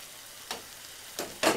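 Chicken and egg kothu curry sizzles in a pan, a soft steady fry punctuated by three brief scraping stirs, the last the loudest, with no voices.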